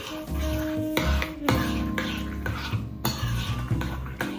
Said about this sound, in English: And then we stir.